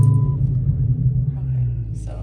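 A manual Dodge Challenger cranks and settles into a deep, steady idle rumble close by, with talking over it.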